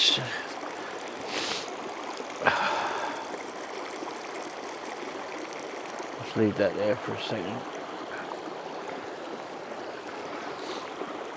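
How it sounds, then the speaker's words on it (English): Water trickles steadily from an ITEHIL portable water filtration system, a soft continuous running sound under a person speaking briefly nearby. "in a second we should get drinking water coming down into this"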